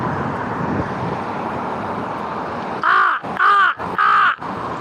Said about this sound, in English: Look, there's one of my crow buddies.